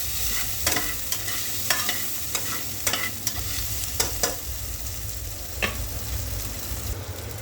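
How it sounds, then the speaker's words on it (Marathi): Peanuts fry on low heat in a pan for soya khichdi, a continuous sizzle punctuated by repeated clinks and scrapes of stirring, close and without speech. "यात आपण थोडेसे शेंगदाणे टाकणार आहोत, ते देखील थोडेसे फ्राय करून घ्यायचे"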